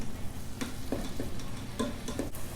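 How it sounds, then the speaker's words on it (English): A spoon stirs taco-seasoned meat with added water inside a Ninja Foodi, giving a few soft scraping strokes over a quiet simmering hiss. "add 3/4 cup of water and stir it up"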